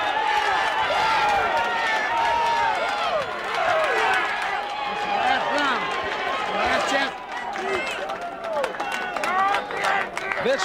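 A boxing crowd on its feet cheering during the final round of a bout, a dense, steady roar of voices and whistles throughout, with a commentator talking over it.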